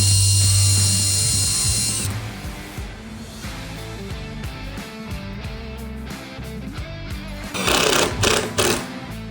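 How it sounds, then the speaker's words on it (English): A power drill bores pilot holes and drives screws into wooden boards of a trunk for a Ford Model A, with a loud high whine at first, then irregular grinding and a second burst near the end. "Al drilled 4 pilot holes through the side board and into the baseboard, and joined them together with 4 screws"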